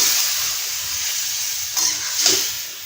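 Cut drumsticks fry with spices in a pan, producing a continuous close-up sizzle and hiss, with a couple of louder bursts of stirring and scraping toward the end.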